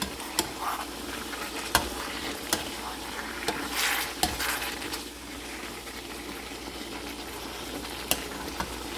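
Beef afritada stew simmering in a pot with green peas added, a continuous bubbling sizzle with periodic sharp clicks of stirring utensils, steady and close, no talking.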